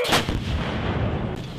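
A U.S. Marine artillery battery gun fires a round, a single loud, booming blast at the start followed by a long rumbling decay with no talking.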